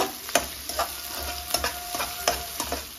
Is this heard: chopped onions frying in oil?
yes